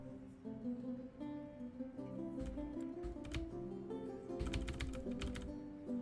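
Computer keyboard keys pressed in quick, uneven bursts of soft clicks, fairly faint and close, over a low steady background tone.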